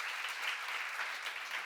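A Korean church seminar audience bursts into applause, a brief continuous roar of many hands clapping together at even volume.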